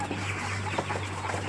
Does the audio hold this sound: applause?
no